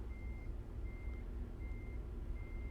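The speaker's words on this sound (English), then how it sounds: "Let's just reverse a bit." Reversing beeps from a truck in American Truck Simulator, a steady series of four evenly spaced tones over a low engine rumble, alone with no talk.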